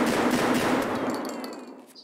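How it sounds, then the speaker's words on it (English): MP153 semi-automatic shotgun in Escape From Tarkov fired rapidly, a dense close burst of heavy booming shots blurring together over about two seconds, then trailing off into echo. "If you spam the gun, this is what happens."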